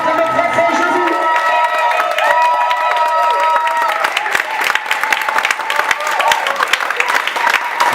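A church congregation breaks into loud, sustained applause and cheering in praise of Jesus, dense clapping filling the room from start to finish, with voices mixed into the din.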